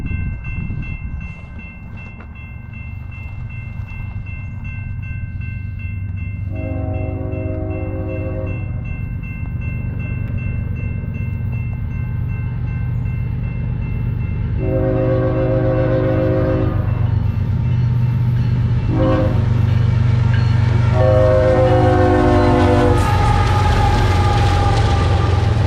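Westbound BNSF auto rack train sounding its horn in repeated blasts of varying length over a steady, loud rumble of rolling rail cars, the train passing close by.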